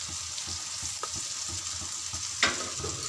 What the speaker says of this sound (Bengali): এবার আমি মশলাটা একটু কষাবো।